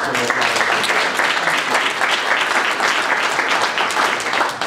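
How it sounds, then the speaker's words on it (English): Audience applause at an agriculture and consumer services broadband event, a dense, steady roar of many hands clapping that continues evenly throughout at close range. "I think they deserve a round of applause."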